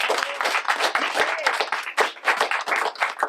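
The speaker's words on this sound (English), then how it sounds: "Let's give them a round of applause." Applause at a ribbon-cutting ceremony for a AAA Northeast RMV office: a small crowd clapping steadily and fairly close, individual hand claps distinct in an uneven rhythm, with a faint murmur of voices underneath.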